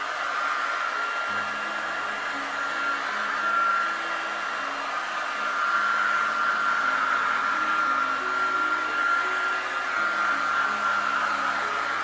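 A hair dryer blows a steady, continuous whir to dry paint on a whitetail deer taxidermy form. The airflow hum stays close and constant throughout with no pauses.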